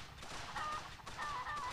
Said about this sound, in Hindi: शायद इसमें से मुर्गियाँ निकल रही हैं